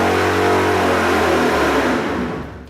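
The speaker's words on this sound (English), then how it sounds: "let's make some noise" A Chevrolet 454 big-block fitted with a Speedmaster top end kit and a Comp Extreme Energy 276 camshaft revs hard on a dyno. The loud, close engine roar holds high and then falls away as the revs drop.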